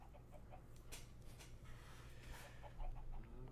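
A chicken pet in Minecraft's Hypixel Skyblock gives several soft, faint clucks at an uneven pace over a low steady hum, with no talking.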